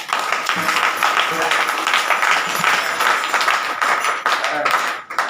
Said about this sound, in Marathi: एकदा त्यांच्या नावावर टाळी वाजवा